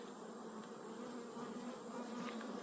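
Honeybees buzzing steadily at an opened hive as it is smoked, a continuous, even drone with a low hum, fairly faint throughout and with no talking.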